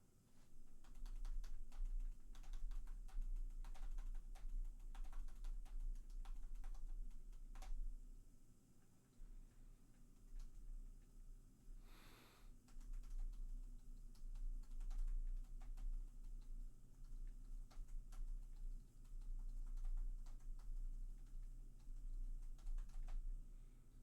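Steady typing on a computer keyboard, with rapid soft key clicks running on and off for the whole stretch, quiet and close with a faint low hum underneath and no speech.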